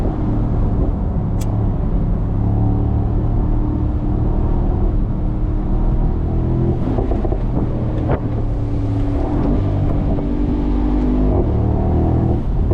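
Mercedes SL63 AMG engine drones steadily as the car runs at about 60 mph along a twisty road, a constant loud rumble with wind noise and slight swells in pitch, no voices.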